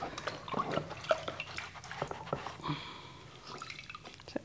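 Paint plates from acrylic painting rinsed under running water, a quiet stream with scattered drips, splashes and light clinks of the plates, fairly faint and close.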